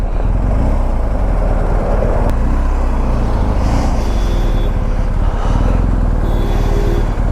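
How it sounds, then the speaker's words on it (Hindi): Dense city road traffic outside a motorcycle service centre: a loud, continuous rumble of cars, trucks and buses close by, with brief horn-like tones over the roar and no talking. "लगातार गाड़ियां लगी हुई हैं"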